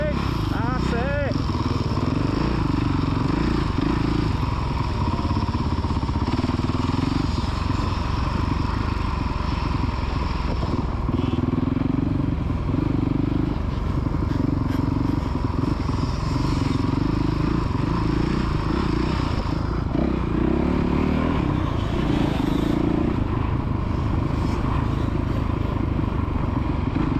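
Kids' motocross bikes running on the Astley MX main track, a continuous loud engine drone rising and falling with throttle changes, with people talking and shouting over it throughout.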